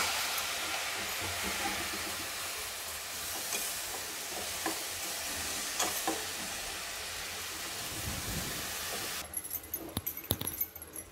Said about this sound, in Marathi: तर बघा, याला खूप वेळ असा खालीवर जरा हलवायला लागतंय, तर गोळा व्हायला पाहिजे